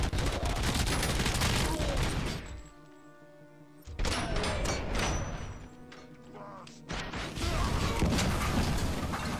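Enemy gunfire in the first-person shooter RoboCop: Rogue City, loud bursts of rapid shots and impacts crackling densely, easing briefly into a quieter stretch before erupting again.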